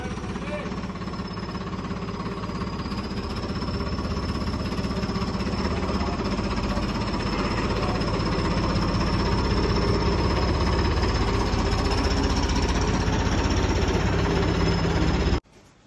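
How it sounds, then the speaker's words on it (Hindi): A loaded tractor reverses nearby, its diesel engine a steady, loud, knocking drone that runs unbroken for about fifteen seconds before cutting off. "ये ट्रैक्टर ने बैक मारने लग रहे, जा रहा है जा रहा है जा रहा है।"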